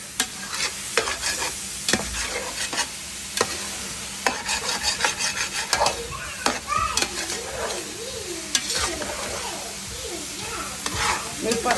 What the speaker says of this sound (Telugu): అడుగంటకుండా కలుపుతూ ఉండాలి.